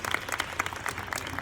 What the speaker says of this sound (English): Can we give Arm a round of applause?